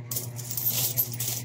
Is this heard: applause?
no